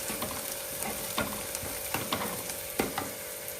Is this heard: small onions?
yes